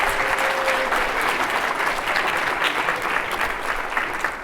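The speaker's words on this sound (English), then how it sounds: "So give yourselves a big round of applause again." A loud, dense wall of audience applause fills a school district State of the District address in 2019, steady and sustained from start to finish with many hands clapping at once.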